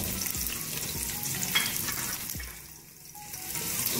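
Onion frying in half a cup of oil in a cooking pot, a steady close sizzle with scraping stirs throughout and a brief dip in the middle.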